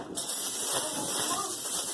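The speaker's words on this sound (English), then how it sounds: "And I'm going to take and spray the inside." A steady aerosol hiss of cooking spray sprayed into the inside of a crock pot, close and continuous for about two seconds, with no talking.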